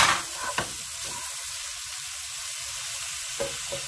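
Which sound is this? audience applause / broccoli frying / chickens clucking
broccoli frying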